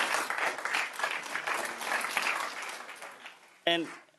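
Applause at a school board meeting, a room of clapping hands rising and falling steadily for several seconds before fading, followed by a brief voice.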